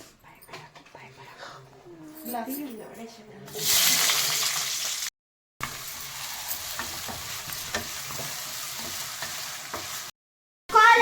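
Onions frying in a pan for an aubergine and potato curry, a bright hissing sizzle with stirring scrapes, first under a voice, then alone in loud stretches broken by short silent gaps.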